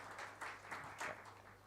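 Brief applause from a botanical society conference audience, a short patter of clapping in soft pulsing bursts, fairly faint and distant.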